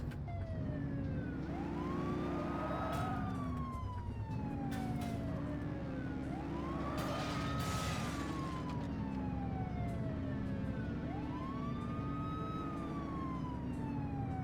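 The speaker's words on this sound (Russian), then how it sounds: "ЛБ включить сирену" A police car siren in the video game The Precinct wails in long, repeating rising and falling sweeps over a steady engine drone, loud and continuous with no talk.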